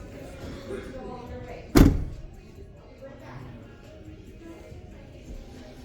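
A truck door is pulled shut once with a single sharp, solid thunk, close by, after which a quiet background hum continues.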